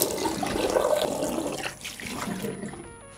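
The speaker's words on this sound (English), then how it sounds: "I'm wetting my face." Tap water runs steadily into a sink while a face is being wetted, a continuous close splashing rush that thins out toward the end, with no talk over it.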